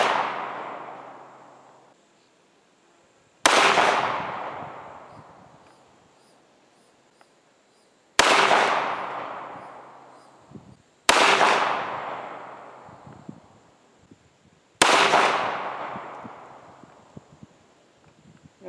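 Five loud, sharp reports from a stainless steel .45 ACP pistol firing 230-grain XTP hollow-point hunting loads, spaced a few seconds apart outdoors, each shot ringing out and then decaying, with no talking.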